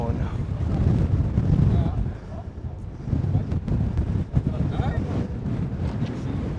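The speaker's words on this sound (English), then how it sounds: "it's windy. Or hold on to your hats and glasses." Strong gusty wind buffets the microphone atop the Hoover Dam, swelling and easing in rumbling waves, with people talking under the roar.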